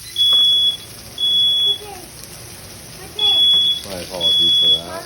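A smoke detector fire alarm shrills in a home kitchen during a steak dinner cook, sounding four loud piercing beeps in an irregular pattern while voices talk underneath.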